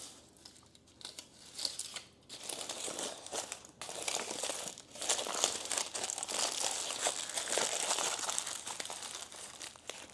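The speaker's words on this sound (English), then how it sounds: "So I just wrap this in tin foil." Tin foil crinkling and crumpling as food is wrapped by hand, close-up and fairly quiet, with repeated rustling bursts and brief tearing-like crackles running continuously without talk.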